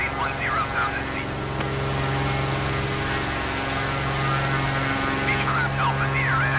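Steady droning hum of a Beechcraft B58 twin piston engine in Microsoft Flight Simulator 2020, constant and loud throughout, under air traffic control radio chatter.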